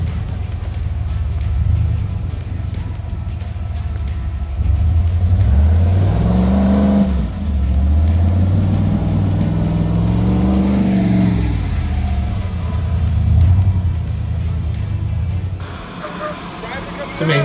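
An off-road rig's engine revs and roars up and down in waves on a trail course, loud and close, with some rumbling low end throughout.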